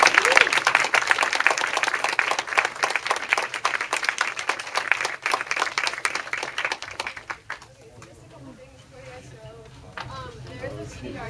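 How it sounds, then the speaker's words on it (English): A crowd claps loudly and continuously after a talk at a UT for Bernie political event. The applause then drops off sharply, leaving quieter room noise and voices talking. "let's give Dr. Galbraith a big round of applause"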